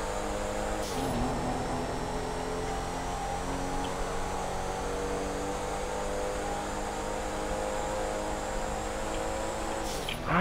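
A car engine in the GTA 5 video game drones steadily as it picks up speed again, a continuous loud hum with no pauses that is heard alone, with no talk over it.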